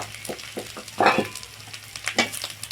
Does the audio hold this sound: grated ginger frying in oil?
yes